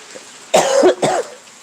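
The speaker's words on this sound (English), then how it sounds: "Hate this cough." Two harsh, chesty coughs in quick succession, close and loud, with quiet room tone before and after.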